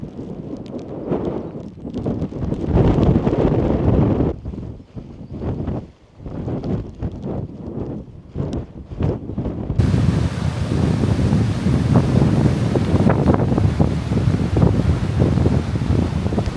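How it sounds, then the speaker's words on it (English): Strong wind buffets the microphone outdoors by a trekking pole tent in wet, cold weather, in loud, continuous rumbling gusts, with a roaring, wave-like wash throughout and no talking. "the weather is quite bad. Fairly windy, wet, cold, not very nice at all."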